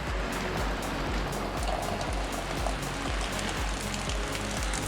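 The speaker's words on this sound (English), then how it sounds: "it's already started raining." Rain patters steadily on the outside of an RV on a cold evening, a dense, loud hiss of drops with sharper taps on the roof, continuous and without voices.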